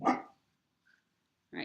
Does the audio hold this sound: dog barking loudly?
yes